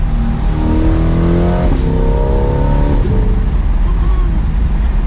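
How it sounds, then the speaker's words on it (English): A 2020 Chevrolet Corvette C8's exhaust roars loud and close, revving up in rising pulls with gear changes, then settling into a steady drone. "I'm hoping we can hear that exhaust with the trees around here."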